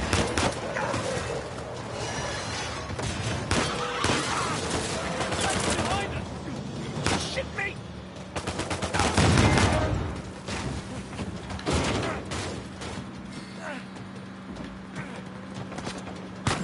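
Gunfire in the third-person shooter Uncharted 4, a dense, busy stream of shots and impacts mixed with game sound effects, steady and loud throughout with a heavier burst near the middle.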